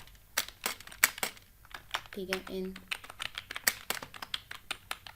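Someone types on a computer keyboard, with quick clusters of crisp key clicks, fairly close and moderately loud, while someone speaks briefly partway through.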